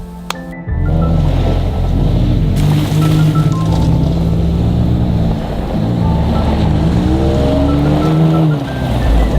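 Steady, loud rush of cars on a busy Everglades highway, engines droning and tires hissing continuously after a brief quiet start, with no voices.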